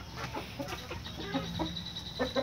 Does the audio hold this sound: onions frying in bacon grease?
no